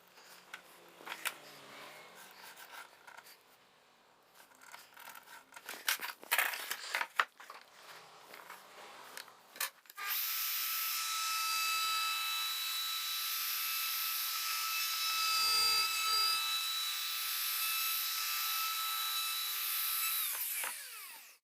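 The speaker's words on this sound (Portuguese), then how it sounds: "se você não tiver uma tupia, pode simplesmente remover essa parte com um formão" A wood chisel cutting out wood for a letter slot, giving sharp close knocks and scraping strikes. Partway through, a steady loud whining power tool takes over and runs continuously to the end.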